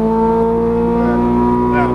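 A Ferrari 430 Scuderia engine drones loud and close from inside the car on a race track, its tone rising as it accelerates, while a voice talks over it.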